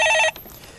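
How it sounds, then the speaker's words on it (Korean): A telephone rings briefly with an incoming call during a Korean stock-market call-in broadcast, a short bright electronic trill that cuts off abruptly, followed by quiet room tone. "전화 받아보겠습니다"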